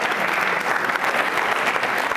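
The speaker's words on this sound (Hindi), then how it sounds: "तालियां जोरों से बजाइए उनके सम्मान में, राष्ट्रपति जी के सम्मान में।" A brief burst of steady audience clapping at a law college constitution quiz show, full and even from start to finish.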